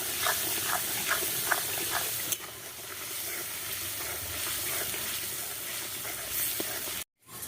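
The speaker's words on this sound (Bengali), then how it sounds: "খুব সুন্দর করে নেড়ে আমি মশলাটাকে কষিয়ে নেব।" Spices frying with goat meat in a pan as they are stirred for a Bengali mutton curry, a steady close sizzle with rhythmic scrapes early on, ending in a sudden cutoff.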